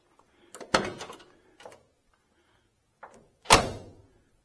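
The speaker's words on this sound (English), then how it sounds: "You'll notice the doors just snap shut very nice." Doors on a 1969 Chevelle SS 396 are pushed closed, giving a few soft clicks and then two solid, close thunks a few seconds apart, with quiet between.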